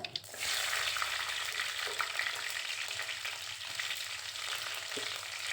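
Oil sizzles and crackles steadily as shallots fry in a clay pot for sambar, with occasional soft clinks of stirring and no talking.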